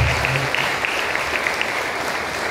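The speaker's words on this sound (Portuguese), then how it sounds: "Uma salva de palmas para nossos pais" Congregation applauding the fathers at a Catholic Father's Day mass in a chapel, a loud, sustained wash of many hands clapping in a reverberant room, steady throughout with faint low murmur beneath.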